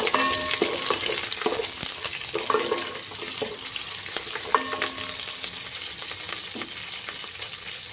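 Cumin seeds, chopped green chilies and curry leaves fry in hot oil, crackling and sizzling up close, with scattered sharp pops and spoon clinks against the pan, no talking.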